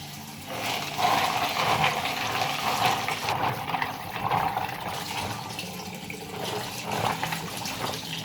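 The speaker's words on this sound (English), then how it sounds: "Rinse off my shrimp." Frozen shrimp are rinsed under a running kitchen tap, a steady close rush of splashing water that carries on without a break throughout.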